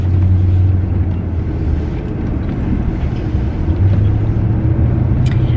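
A steady, loud low rumble of a van driving on the road on a long highway trip, with a constant engine and road drone and no talk.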